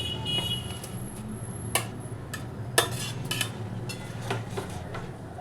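Pieces of pointed gourd drop into a pan and get stirred, making a series of sharp metallic scrapes and clinks of utensil on cookware over a low background murmur.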